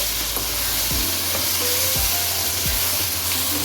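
Half a kilo of cut potatoes fry with spices in a pan, giving a continuous sizzle with occasional scraping stirs of a spoon, close and steady.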